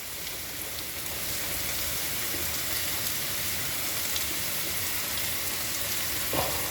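A few spaced-out potatoes frying in a pan, producing a loud, continuous hiss of hot oil that holds steady throughout, with one small knock near the end and no talking.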